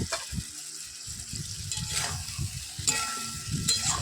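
Chicken and potato curry with spice gravy, ginger and dried chilli paste being stirred in a pan, with soft repeated scraping and wet sloshing over a low sizzle, close and continuous.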